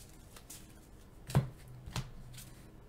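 Marvel Legendary playing cards being shuffled by hand at a tabletop, heard as a few soft, quick riffling taps with two sharper clicks in the middle, faint and close, with no talking.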